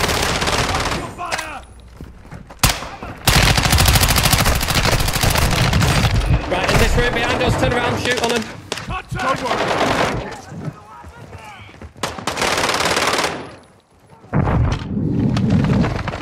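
Video game firefight with loud, close automatic gunfire in long rapid bursts, separated by short pauses and a few dull thuds.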